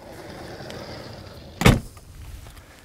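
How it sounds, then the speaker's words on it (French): A car boot slams shut once at close range, a single loud thump standing out from low outdoor background noise. "je referme ici le coffre"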